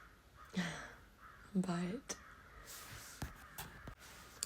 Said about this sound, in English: the crows are really going.